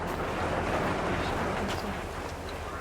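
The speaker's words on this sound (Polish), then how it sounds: "Wiatr." A continuous, dense roar of wind in Farming Simulator 22 rushes without a break, low and full, never easing over the few seconds.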